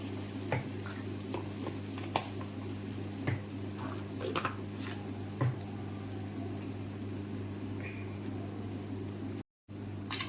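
Masala sizzling and frying in a pan for dhaba-style dal tadka, a steady quiet sizzle throughout, broken by occasional soft stirring scrapes and clicks.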